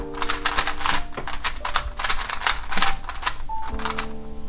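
A WRM 2021 speed cube, arriving broken but with easy corner cutting, turned fast in a steady burst of crisp plastic clicks and clacks, up close and loud, with no talking.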